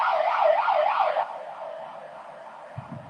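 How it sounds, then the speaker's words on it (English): An ambulance siren wails outside with a rapid rising-and-falling yelp, loud at first, then shifting to a softer, steadier wail as it moves off, with a brief low thump near the end. "Is that Buenos Aires or New York? The ambulance."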